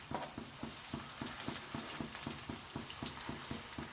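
A vegetable chop fries in a pan while being pressed down, with a quiet sizzle under a regular series of soft rhythmic taps and scrapes, about three per second, and no voices.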